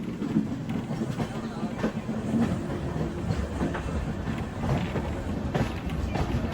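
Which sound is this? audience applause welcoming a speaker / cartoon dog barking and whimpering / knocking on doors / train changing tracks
train changing tracks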